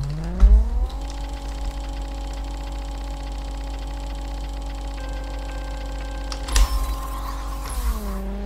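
A Nissan Silvia S15 in Racing Rivals drones steadily at high revs, its engine tone holding level before a sharp gear-shift crack and a quick change in pitch near the end, loud and close.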